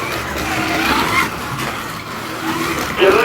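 A Scalextric Ford Escort Mk1 slot car, model C3592, racing around a track: a continuous loud whirring motor whine with shifting pitch, steady throughout with no clear pauses.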